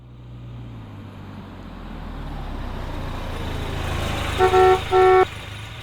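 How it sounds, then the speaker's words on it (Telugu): Two loud, close car horn honks in quick succession, each a steady held tone lasting about half a second, sounding over a rising drone of road traffic. "ఆపరా హారన్"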